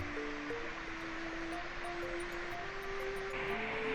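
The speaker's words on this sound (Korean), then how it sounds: "여전히 아래로 흘러내리는 계곡의 물소리를 따라 천천히 걸음을 옮겼어요" A mountain stream rushes steadily in a continuous broadband wash over rocks near a waterfall on Dobongsan, with a faint tonal drone running underneath.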